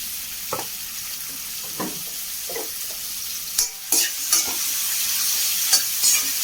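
Sliced onions sauté in coconut oil with a soft continuous sizzle, broken by a few sharp scraping stirs of a spoon against the pan, close and without voices.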